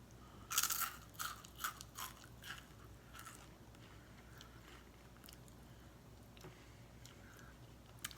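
Loud crunchy bites into a bacon-flavoured French snack, a burst of sharp crackling crunches at first, then softer chewing that fades into quiet near the mouth.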